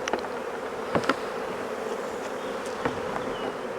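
Honey bees drone steadily around an opened Maisemore poly commercial hive, a dense continuous buzz with a few close fly-bys and faint clicks of the hive being handled, no voices.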